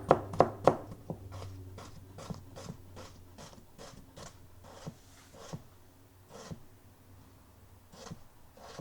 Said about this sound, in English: once you've got the one potato sliced very thinly